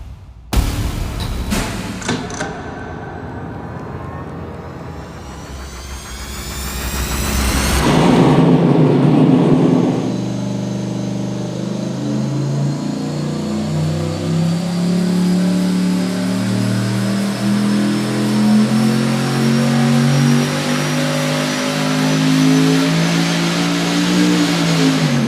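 An LS V8 engine bursts into life with a few sharp starter-and-catch thumps, then settles into a loud, steady idle, rising in a swelling rev before holding a throaty, even drone close by with no talking.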